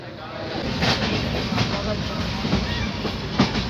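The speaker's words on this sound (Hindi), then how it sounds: "तो फाइनली ट्रेन चल पड़ी है" Ride-on train rolling along rails, a steady rumbling clatter with faint rhythmic clicks throughout, close by, with voices talking over it.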